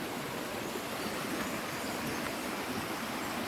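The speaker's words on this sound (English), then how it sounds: "And the water is just cascading," Argyle Waterfall in Tobago pours down in a steady, even rush of falling water, a dense hiss-like roar that holds constant throughout without pauses or other sounds.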